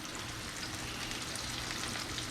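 Chicken pieces fry in oil in a home kitchen pan, a dense continuous sizzle and crackle heard up close, with no talking.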